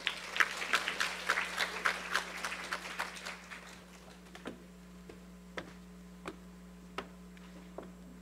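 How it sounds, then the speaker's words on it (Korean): An audience claps in a lecture hall as a high-school teacher is introduced for a university admissions briefing, a fairly faint burst of clapping that thins out to a few scattered claps over a steady room hum. "큰 박수 부탁드립니다."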